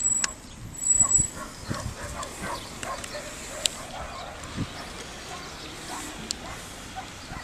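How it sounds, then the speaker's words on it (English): Faint, scattered yapping from small white dogs somewhere in the distance, over quiet outdoor ambience during a walk, with occasional sharp clicks and rustles. "just in case you heard all that yapping, that's the little white dogs down the end"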